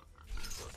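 A pig in the survival video game Atlas gives a short grunt, rising in the middle of the brief moment and standing alone without talk.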